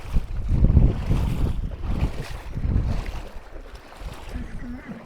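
A strong current rushes through a village stream, a loud, turbulent low roar of water with surges and wind buffeting the microphone, heard close and continuous throughout.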